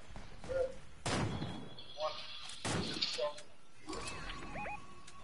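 Sharp bursts of gunfire crack in a few separate volleys, fairly near and loud, with electronic game sounds chirping between them.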